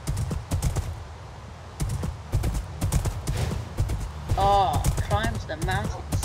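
Hooves of a Minecraft horse clip-clop in quick, steady bursts, close and fairly loud, with someone talking over the latter part.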